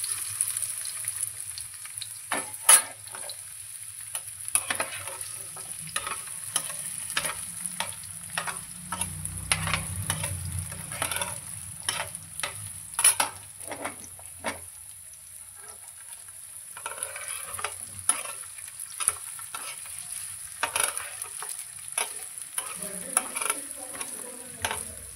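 About 100 grams of ginger frying in a pan crackles steadily for a long stretch, with frequent small scraping clicks from stirring and a low rumble partway through. Nobody speaks.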